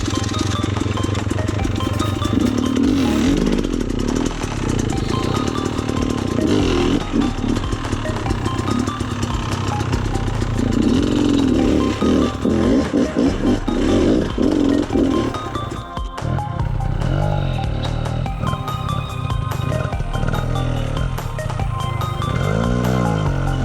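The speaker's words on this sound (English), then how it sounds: "Damn, it just spins on these wet rocks." Enduro motorcycle wheel spinning on wet rocks, the engine revving hard and steady with rough sputtering bursts as it loses traction, with some voices talking faintly over it.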